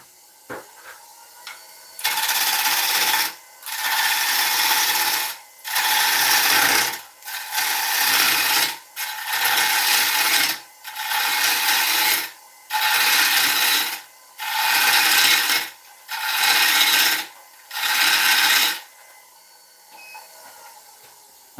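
Bowl gouge taking gentle cuts on a wooden bowl spinning on a lathe, ten evenly spaced bursts of rasping, shaving noise, each about a second long, separated by short pauses, close and loud with no talking.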